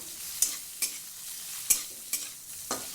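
Spiny gourd fries softly with salt and turmeric in a pan as a spatula scrapes and stirs about five times at an uneven pace. It's quiet and close, with no talking.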